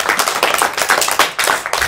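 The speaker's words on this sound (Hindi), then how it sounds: "एक बार ज़ोर से तालियां" Loud applause from a group gathered to welcome children at an event, dense clapping that rises and falls in bursts, close and alone without speech.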